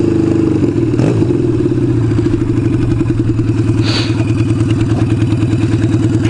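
A motorcycle engine runs steadily during a ride, a loud, close, pulsing mechanical thrum with a rhythmic clatter throughout.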